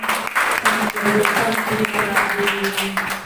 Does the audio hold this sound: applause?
yes